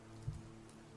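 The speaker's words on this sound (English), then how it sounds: "You can hear it's raining outside" Steady rain falls outside in a soft, continuous patter, with one brief duller thump near the start and no voices.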